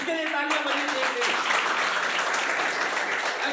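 An audience at a business event applauds, dense clapping building and holding steady, with a voice briefly talking at the start.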